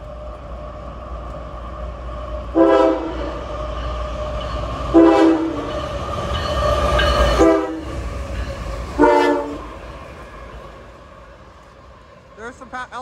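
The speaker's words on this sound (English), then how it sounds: "here's the CSX train" A CSX train rumbles past while its horn sounds in several long blasts, loud and fairly close, with someone talking over it.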